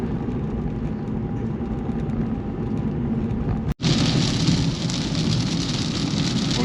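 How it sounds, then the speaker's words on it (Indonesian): Heavy rain drums steadily on a BMW E90 sedan driving the Prambanan toll road near Yogyakarta, a dense continuous roar that cuts out briefly and returns louder and brighter, with no talking. "Hujan lumayan deras nih guys di tol Prambanan, tol Jogja."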